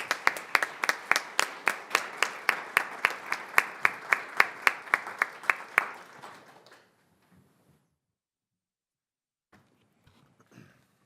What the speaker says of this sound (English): One more round of applause for those folks.